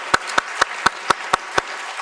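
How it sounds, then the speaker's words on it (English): A lecture audience claps for the planning committee in an even pattern of about seven distinct, evenly spaced claps over a steady room hum, with no talking. "Let's give them a round of applause."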